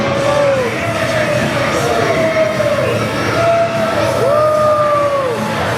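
A Brooklyn crowd at a pro wrestling event keeps up a loud, steady roar of cheering, with long rising and falling yells and whoops from many voices carrying over a constant wash of noise.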